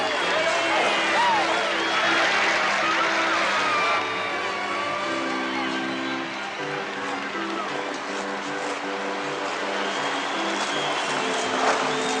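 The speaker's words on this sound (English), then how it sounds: "They're getting a good round of applause from their own booster club" A booster club crowd at a hockey rink in Peterborough gives a steady round of applause as their team comes onto the ice, a dense continuous clapping wash mixed with arena noise and music.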